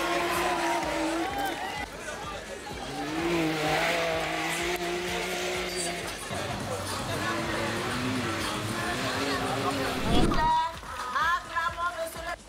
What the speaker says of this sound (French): Une quinzaine d'équipages y a fait vrombir les moteurs magnétiques.